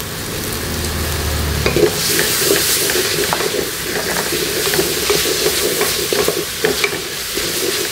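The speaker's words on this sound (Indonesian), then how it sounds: "Kita tumis sebentar kecapnya" Sweet soy sauce sautéing with yellowed spices in a pan for honey-grilled beef ribs, a loud continuous sizzle and bubbling with spatula scrapes stirring throughout, no talking.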